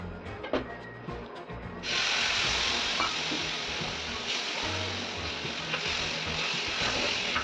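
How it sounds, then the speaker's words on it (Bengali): Turmeric, chili, cumin and coriander powders and ginger-tomato paste hit hot oil in a pan with a sudden loud sizzle. Light stirring and scraping follow, and the frying hiss stays steady and close. "দিয়ে ভালো করে কিছুক্ষণ কষিয়ে নেব মশলাটা।"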